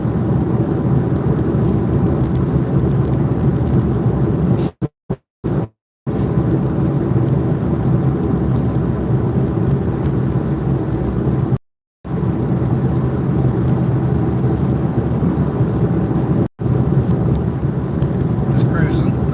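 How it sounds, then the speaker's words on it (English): Car driving north on Interstate 5 in Washington State, a constant loud road rumble and engine drone with a few brief dropouts. "Taking a drive"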